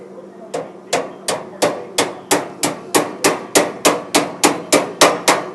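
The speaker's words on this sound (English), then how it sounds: "tap home with your hammer" A hammer taps a joining clip into a counter cabinet sharply about fifteen times in a steady, even rhythm, each strike loud and close with a short ringing decay.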